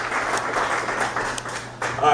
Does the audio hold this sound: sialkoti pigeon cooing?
no